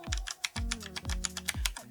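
Fast typing on a Logitech G610 keyboard with Cherry MX Red switches, a dense run of soft, quick key strikes with some deeper thuds, close up and without talk.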